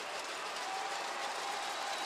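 Stadium crowd noise from a college football video game, Idaho versus Temple in Moscow, a steady broad roar of cheering and applause holding at the same level throughout with no clear voices on top.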